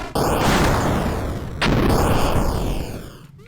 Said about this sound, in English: Oh, I threw a grenade.